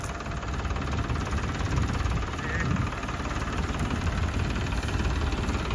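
A Holland tractor engine runs close by with a loud, continuous, even rumble and no other sounds breaking through.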